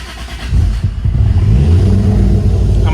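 A car engine revs close up, rising from an idle into a louder, sustained growl with a few throttle surges.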